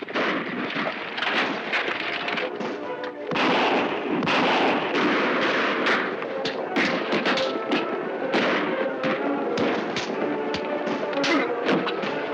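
Rapid gunfire from a 1949 black-and-white Lone Ranger western episode, with a dense volley of sharp cracking shots and thuds that go on steadily and loudly without a break.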